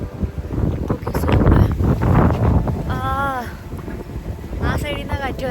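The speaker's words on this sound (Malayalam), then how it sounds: "ആ സൈഡിൽ നിന്നാണ് കാറ്റ് വരണേ." Strong wind buffets the microphone high on top of the Dubai Frame, a steady roaring rush under a person talking throughout.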